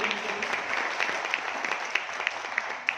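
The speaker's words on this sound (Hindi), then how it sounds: "तो एक बार जोरदार तालियां" Dense, steady applause from a large audience at a motivational business gathering in Dehradun, a broad crackling wash of clapping with a few sharper claps standing out, continuous and fairly close for the whole stretch.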